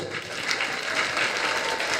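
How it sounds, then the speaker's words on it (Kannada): An audience at a Kannada stage play by a Bangalore theatre troupe claps steadily and vigorously as cast members are introduced, a dense, continuous wash of applause with no break. "ಜೋರ ಚಪ್ಪಾಳೆ ಬರ್ಲಿ"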